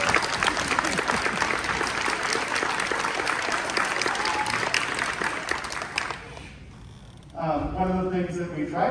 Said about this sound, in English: So how about a round of applause for Mr. Sekla?